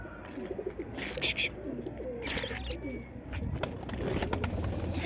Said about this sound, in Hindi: सारे कबूतर जा रहे हैं, अभी अंदर जाएंगे।